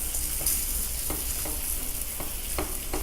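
Beer cheese sauce with about three-quarters of a pound of cheese is stirred in a pan, giving steady soft sizzling under a regular, scraping stir stroke roughly every half second, close and alone.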